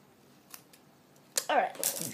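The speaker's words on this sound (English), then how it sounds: "Sorry, my scissors isn't sharp." A few faint snips, then a louder crunchy cut of dull scissors working through material while making a beetle trap, close and brief.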